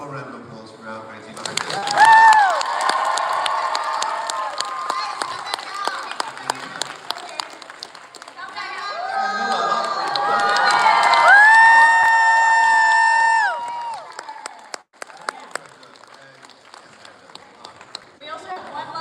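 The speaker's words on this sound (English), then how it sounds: "let's just give one more round of applause for our great team" Audience at a convention panel at Animate! Orlando bursting into applause and cheering, with loud clapping and high shouts swelling twice, while voices call out over it.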